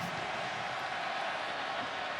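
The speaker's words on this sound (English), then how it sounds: "Crowd's back into it now too" A football stadium crowd at an Auburn at Ole Miss game makes a steady, broad roar that holds level throughout, distant and diffuse with no single voice standing out.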